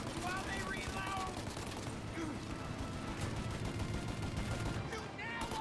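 Dense, rapid gunfire from a shootout in Mafia: Definitive Edition, a continuous barrage of overlapping shots and bursts, loud and close, with shouted voices mixed in.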